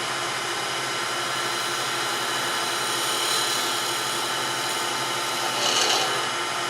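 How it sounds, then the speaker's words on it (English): A skew chisel shaves wood on a lathe while a lidded box is turned, giving a steady broad hiss of cutting with slight swells near the end, close and loud with no voices. "I'm going to use the skew."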